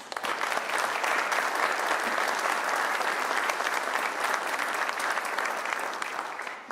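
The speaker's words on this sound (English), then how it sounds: "Let's give them a round of applause" Sustained audience applause at an outdoor Veterans Day ceremony at the Indiana War Memorial, following a brass quartet's prelude; dense, steady clapping from a large crowd throughout, no voices over it.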